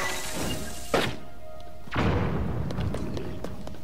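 In Zelda: Tears of the Kingdom a bomb arrow is fired and explodes, a sharp thunk followed by a deeper booming blast that rumbles and fades over continuous game ambience.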